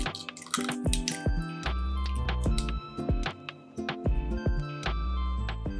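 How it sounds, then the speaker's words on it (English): A whole egg cracked and dropped into a heat-resistant glass cup, producing a run of sharp taps, cracks and wet drips in irregular bursts, close and clear with no talking. "With a decisive crack, drop a whole egg into each."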